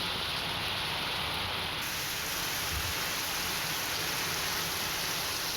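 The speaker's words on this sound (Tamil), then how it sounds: "தற்போது கள்ளக்குறிச்சியில் கனமழை பெய்து வருகிறது" Heavy rain pouring down across Kallakurichi district, a steady, dense hiss of downpour that stays loud and unbroken throughout, with no voices.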